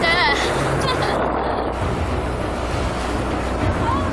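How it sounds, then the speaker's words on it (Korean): Huge ocean waves and strong wind batter the coast during a storm in Newfoundland, Canada, a loud, continuous roar of surf and gusting wind buffeting the microphone, with a brief voice at the start. "엄청난 파도와 거센 바람이 몰아치는데요"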